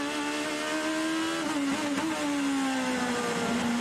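An IndyCar race car on a qualifying lap at Sonoma makes a steady, high-pitched engine whine that dips slightly in pitch midway before settling again. The sound is continuous and fairly close.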